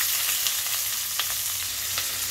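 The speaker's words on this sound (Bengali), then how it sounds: "এবার আমি দিয়ে দিচ্ছি পেঁয়াজ কুচি," Chopped onion and green chilli frying in hot oil in a kadai, making a continuous crackling sizzle, loud and close, with a few soft stirring scrapes and no voices.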